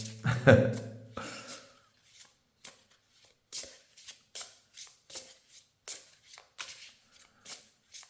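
Playing cards are shuffled up close in a series of quick, crisp riffles, repeating at a fairly even rhythm after a brief rustle of handling.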